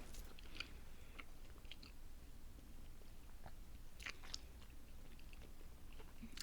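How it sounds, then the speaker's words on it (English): Someone chews a candy heavy with Blue 40 dye, producing faint, close, irregular wet chewing and crunching sounds against a low steady background. "I just keep chewing and spitting out."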